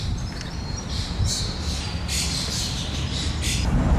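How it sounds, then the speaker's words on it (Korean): Pigeons in an empty Borough Market give short, repeated squawks and calls over a low, steady background hum, fairly faint and with no voices. "비둘기밖에 없어 비둘기"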